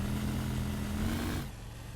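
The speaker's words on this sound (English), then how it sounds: "I don't know why the engine sounds like that, it just does." A car engine in the driving game Motor Town runs steadily with a low, droning tone, then drops away abruptly near the end, leaving a quieter hum. No one speaks.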